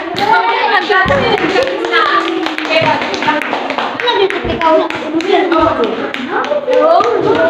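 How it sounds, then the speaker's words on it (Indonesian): Fourth-grade primary school classroom with children clapping their hands in a loose, bouncy rhythm, sharp claps close by mixed with lively kids' voices talking and calling out. "beri tepuk tangan dulu"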